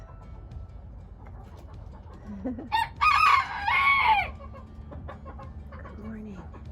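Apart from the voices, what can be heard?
chickens clucking and a rooster crowing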